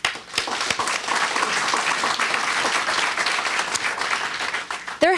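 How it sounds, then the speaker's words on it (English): A crowd applauds at the opening of a senior housing development, a dense, steady wash of clapping from many people that holds for about five seconds before a voice cuts in at the end. "I just want to give a big round of applause"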